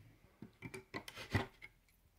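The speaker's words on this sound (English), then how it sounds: "So he's going to take out all the staples." Staples being pried out of a wooden fireworks rack with bullnose pliers make a quick series of close scraping, creaking pulls and metallic clicks, with the loudest wrench near the end.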